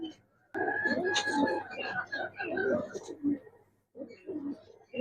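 Pigeons coo in soft rolling murmurs, close, over a steady low hum, with a break near the end before the cooing resumes.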